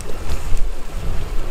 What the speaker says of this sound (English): the water is flowing, sucking from the river